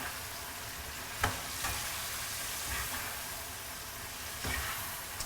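Chicken karahi curry browning and reducing in a pan, a steady soft sizzle and frying hiss with occasional louder pops, heard alone and close.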